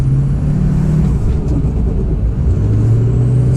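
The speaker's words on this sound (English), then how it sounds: "Spun the tires a little bit there." A Ford 6.0 Powerstroke diesel truck spins its tires: a loud, continuous engine roar with a low drone and gritty rumble, steady and close, no voices.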